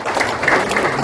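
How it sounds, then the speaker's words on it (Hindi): Audience at an investors summit in Mumbai claps together in a dense, steady burst of applause that fills the short moment from start to finish. "ताली हो जाए सबके लिए एक बार।"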